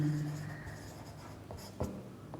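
Marker or chalk writing out electron band notes on a classroom board, steady scratchy strokes running close and alone for a couple of seconds, with a few sharper taps near the end.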